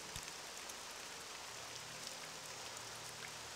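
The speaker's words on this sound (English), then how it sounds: "And it's still raining." Steady rain in the video game Morrowind hisses continuously at a soft, even level, with a low hum running under it and no talk.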